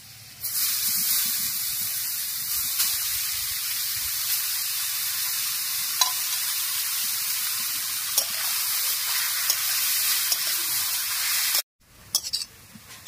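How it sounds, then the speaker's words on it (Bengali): Grated carrot fries in ghee for gajar halwa, a loud, dense, hissing sizzle running steadily for several seconds before cutting off abruptly, followed by a few brief clinks. "বন্ধুরা হালকা আছে 2 মিনিট গাজরটা ভালো করে ঘিয়ের মধ্যে ভেজে নিয়েছি"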